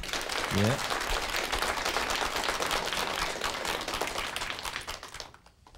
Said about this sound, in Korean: 심상원 소장님께 큰 박수 보내주십시오